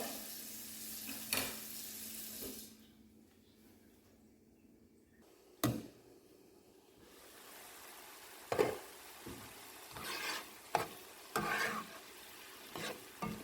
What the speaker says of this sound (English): Let that saute for about 7 minutes.